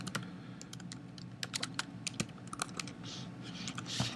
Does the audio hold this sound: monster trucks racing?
no